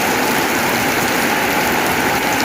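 Heavy rain pours down in a steady, dense hiss, loud and close, with no let-up and no voices over it.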